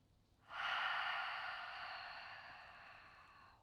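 A long, deep exhale through an open mouth during a guided breathing exercise, a soft steady whoosh that starts abruptly and slowly fades over about three seconds, close and alone.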